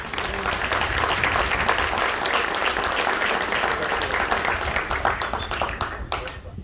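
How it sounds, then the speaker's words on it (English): A crowd applauds loudly and steadily in a large space at a high school baseball game, dense clapping that tapers off near the end. "Let's give them one more round of applause."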